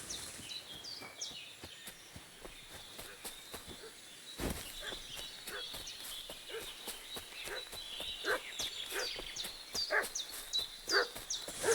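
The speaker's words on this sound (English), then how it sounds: "What's that dog making such a fuss about?" Dog in the medieval video game Kingdom Come Deliverance 2, barking repeatedly and agitatedly in quick irregular bursts over outdoor ambience with birds chirping, the barking growing busier and louder toward the end.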